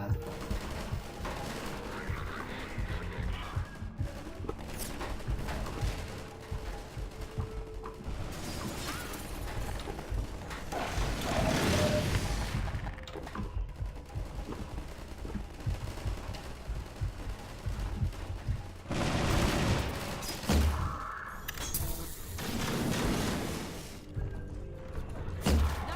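Gunfire in Half-Life 2: Episode Two, scattered bursts and thumps over a busy game soundscape, with louder volleys late in the stretch.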